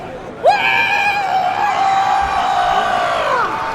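A single voice imitates a roaring crowd cheering, a long sustained wavering whoop that rises sharply, holds, then trails off, loud and close.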